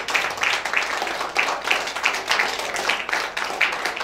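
Steady audience clapping, many hands at once with some louder nearby claps popping out in a loose rhythm, continuing unbroken with faint voices underneath.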